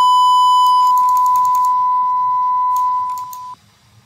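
A steady electronic tone from a computer speaker driven by an LM386 audio power amplifier drops in level as a potentiometer is turned down, then fades away to near silence, with faint clicks along the way.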